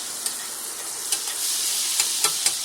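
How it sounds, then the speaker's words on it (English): Butter melts in a pan for smothered turkey wing gravy, hissing in a bright, even sizzle close by, with scattered light spatters and ticks throughout. "Gonna melt the butter. Got my flour ready. My butter is melting."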